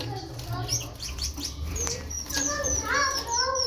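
Caged Moroccan bulbuls and canaries chirp and tweet in quick, overlapping bright calls at close range, with a low background hum and some soft flutter.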